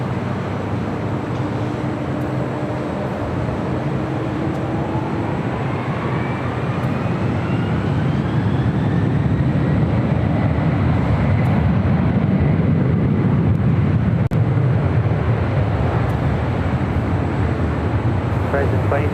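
Delta heavy jet airliner taking off at LAX, a loud sustained roar with rising whine that swells and fills the scene, while air traffic control radio talk plays over it.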